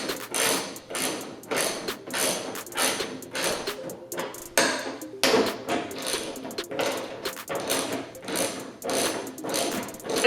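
Bolt being threaded and tightened on a latch: a rapid, continuous run of ratcheting clicks and metallic mechanism rattles, close and fairly loud, with brief pauses between bursts and no talking.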